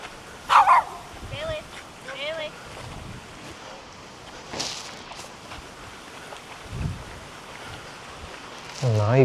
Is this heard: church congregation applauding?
no